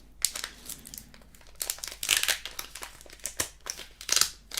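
A foil Pokémon booster pack wrapper, Celestial Evolution series, being torn and crinkled open up close, in bursts of sharp crackling and rustling with short pauses between, and no talk.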